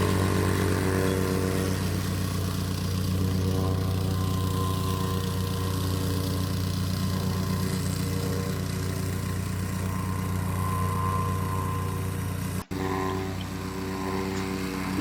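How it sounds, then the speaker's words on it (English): A string trimmer runs steadily and loudly close by while edging around a DIY backyard putting green, its motor holding a constant droning buzz with a brief dropout near the end. "I really look forward to having another job where I can use a whacker."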